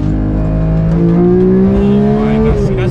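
Pagani Utopia accelerating hard, a loud close engine roar with harmonics sweeping steadily upward in pitch as revs climb, easing briefly near the end, with no talk over it.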